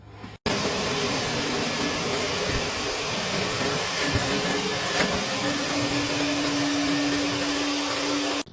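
Steady, loud roar of a powerful suction vacuum used to clean out a dryer vent, droning evenly for about eight seconds with a few faint knocks and no talking.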